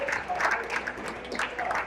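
A crowd applauds at a squash match, a dense patter of many hands clapping at moderate distance, steady across the brief moment with speech partly audible underneath.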